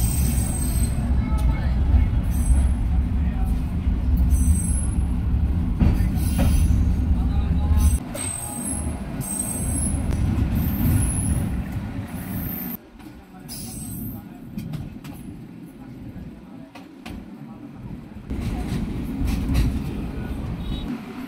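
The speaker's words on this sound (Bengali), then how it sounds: "কয়েক মিনিট পরে ট্রেনটি দিনাজপুর স্টেশন থেকে যাত্রা শুরু করল" Ramsagar Express pulling out of Dinajpur station on the Bonarpara–Dinajpur–Panchagarh route, a steady low rumble of the train with rail clatter and occasional high squeals, loud throughout, shifting in tone partway as it gathers motion.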